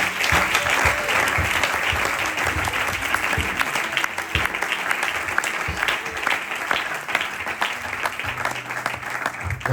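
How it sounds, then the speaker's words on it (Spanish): A church congregation claps steadily in a dense, sustained round of applause that carries evenly for nearly ten seconds, close and full, with no talking over it. "¿Cuántos le aman y le dan un aplauso al Señor?"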